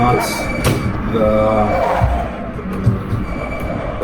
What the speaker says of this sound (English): That squealing of the tires you just heard